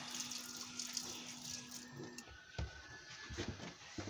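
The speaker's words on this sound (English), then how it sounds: "just hot water's just coming through now" Hot water running from a tap in a Burstner motorhome, a steady close hiss of flowing water that thins out midway, followed by a few clicks and knocks.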